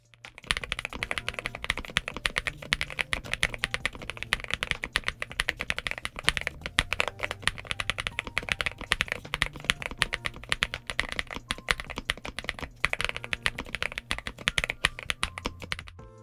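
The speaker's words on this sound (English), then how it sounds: "This is a nice sounding keyboard." Typing test on a NuPhy Gem80 TKL mechanical keyboard with its stock FR4 plate; a steady stream of close, crisp key clacks runs for about sixteen seconds with no pauses and no talk.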